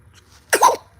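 A single short, sharp burst from a person, close and fairly loud, comes after near-silence with a faint low hum beneath; it may be a sneeze or a cough.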